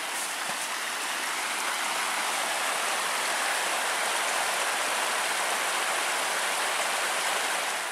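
A river along the Superior Hiking Trail rushes with a steady, dense broadband roar, constant and close, with no voices over it.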